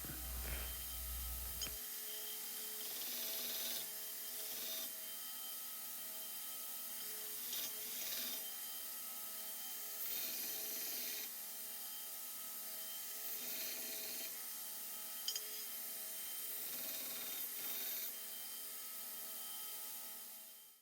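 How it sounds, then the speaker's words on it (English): A hand file rasps across a Damascus knife's shoulders held in a file guide, squaring them up. The strokes come in a slow, repeated back-and-forth rhythm, close and moderately loud, with no one talking. "Now I've got the file guide on here and I'm going to square up these shoulders"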